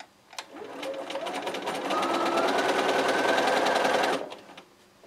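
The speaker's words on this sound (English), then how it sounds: "I am sewing with a 1/4 inch seam." A sewing machine stitches quilt pieces for a Lulu Roses quilt with a quarter-inch seam, a steady close whirring run of about three and a half seconds that starts and stops cleanly.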